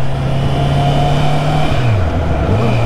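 A 2022 Honda CB650R four-cylinder motorcycle engine holds a steady, loud hum, then dips and rises again in revs near the end. The sound is close and continuous.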